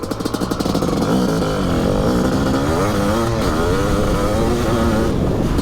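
A 2022 Honda CB500R 500cc motorcycle engine roars loud and close, revving up and down through gear changes with a rough, buzzing tone throughout.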